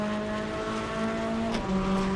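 Race car engine in a GTE endurance racing video game holds a high steady whine, then drops sharply in pitch at an upshift to fifth gear and settles into a lower drone, loud and close.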